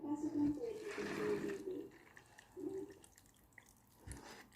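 Hot water poured over spicy instant noodles, a short splashing pour at close range that trails off into scattered drips, with some talk partly overlapping.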